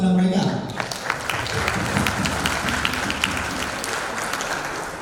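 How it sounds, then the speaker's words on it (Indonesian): Conference audience applauding: a dense, sustained wash of many hands clapping at moderate loudness, beginning after a brief voice at the start and slowly tapering toward the end. "saya meminta dengan hormat untuk memberi aplaus kepada mereka"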